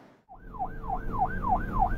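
A cartoon police car siren wails in quick, regular rising-and-falling sweeps, about five cycles, loud and close after a brief near-silent start.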